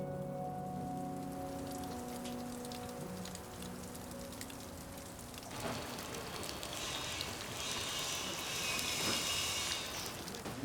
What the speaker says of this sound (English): First rainy day we've had since, since lockdown